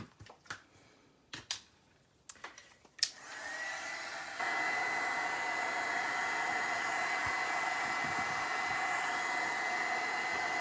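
A hair dryer drying paint on a steampunk Christmas tree craft project switches on after a few handling clicks and taps, then blows as a steady, loud whoosh that steps up in strength and holds to the end.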